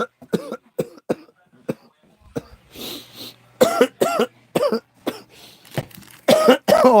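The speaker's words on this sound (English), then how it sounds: "Oh, I'm coughing." A person coughs repeatedly in sharp, loud bursts with throat clearing between them, close to the mic with short pauses.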